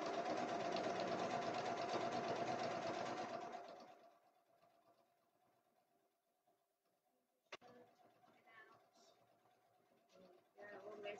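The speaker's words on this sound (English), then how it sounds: "So bring the sewing machine back into play, and that's four nice lines of stitching" Electric sewing machine stitching seams on a fabric basket with cotton and wadding, running loud and steady for about four seconds before stopping, followed by quiet room tone and a faint clunk.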